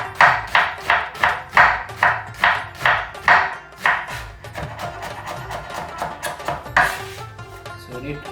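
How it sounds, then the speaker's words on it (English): An onion half being sliced with a knife, about a dozen crisp, evenly spaced cuts close up, the strokes quickening and softening toward the end with one last sharp chop, no talking. "I will slice it."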